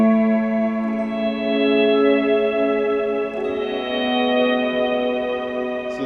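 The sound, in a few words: guitar swells with reverb and delay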